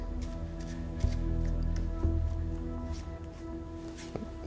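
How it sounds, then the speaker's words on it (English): Overhand shuffle of a deck of playing cards during a magic trick, soft papery riffling and light ticks running steadily with a couple of sharper slaps of cards, close and fairly quiet, no talk. "What I'm doing there is just a overhand shuffle."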